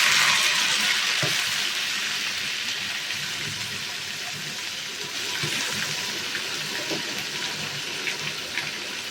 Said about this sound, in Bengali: দিয়ে দিচ্ছি একটু পানি হালকা করে